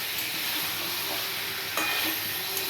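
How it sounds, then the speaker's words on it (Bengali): Potato pieces being stirred into spiced soybean chunks in a hot pan, with a steady sizzle underneath and scraping strokes of the spoon, one sharper scrape partway through, close and fairly loud. "এবারে আলু দিয়ে আবার এই মশলার সাথে সয়াবিনের সাথে একটু মিশিয়ে নিচ্ছি"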